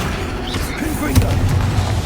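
A Confringo fire spell detonates in the Hogwarts Legacy video game, a single booming burst partway through, set against steady game noise and a voice.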